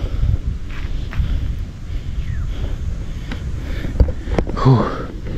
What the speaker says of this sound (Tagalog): medyo lumalakas na yung hangin